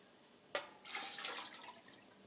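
Water pours into a canning pot for dilly bean brine, a faint splash followed by a soft, steady trickle and gurgle lasting about a second and a half, alone with no talk.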